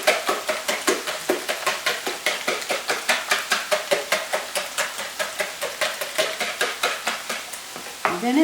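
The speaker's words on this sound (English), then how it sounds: "I want to beat this. And this whisk will incorporate air into the eggs" A wire whisk beats eggs in a bowl for a frittata, a steady fast rhythm of bright clicking strokes against the bowl, close and even, with no talking.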